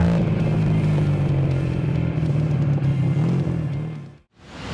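Modified two-cylinder Honda Spacy and Honda Supra X 125 motorcycle engines run with a loud, steady, throaty drone that stays close and even, then cuts off sharply near the end before picking up again.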